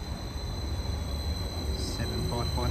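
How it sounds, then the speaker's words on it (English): A train pulls into a railway station on a single-track line, its rumble steady and close, with wheel squeal and metallic screeches building toward the end. "I realise why that train's waiting there. It waits for this one."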